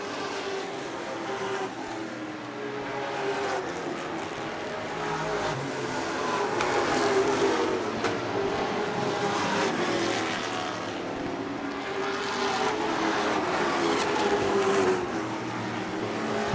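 Late model sportsman race cars run around a 3/8 mile oval track, their engines droning steadily and blending into a continuous roar with gentle swells as the strung-out field passes.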